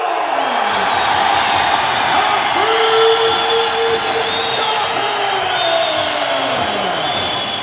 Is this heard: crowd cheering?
yes